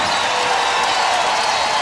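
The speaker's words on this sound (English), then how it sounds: "The crowd into it now." Basketball arena crowd cheering in a dense, loud wash of voices, sustained and even across the short stretch with no distinct claps or single shouts standing out.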